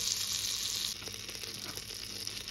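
Butter melts in a pot over heat, likely on top of boiled chicken, giving a steady, close sizzling hiss that runs without pause and with no talking.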